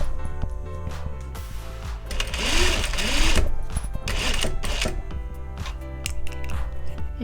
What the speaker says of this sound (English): So let's go ahead and get the stitching taken care of first